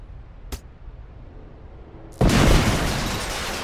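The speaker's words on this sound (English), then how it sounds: "Throw a frag grenade through the window and into the hut." A frag grenade detonates inside a hut in a combat-training video game, bringing the structure down: a brief pop, then a loud, sudden blast that leaves a long, dense rumble of collapsing debris fading slowly.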